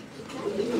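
Fancy pigeons cooing at a pigeon farm in Natore, a soft continuous low murmur that is close and steady for under a second.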